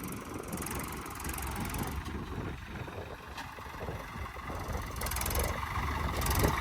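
A Swraj 855 4x4 tractor engine idles nearby with a low, constant rumble, holding at an even level throughout with no voices.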